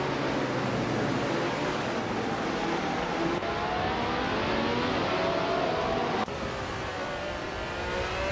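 Race cars from a 1976 Formula One class, including a Brabham BT45, run at Sportsland Sugo in a racing video game. Loud, dense engine whine rises and falls as several cars rev and shift close together, without any voices.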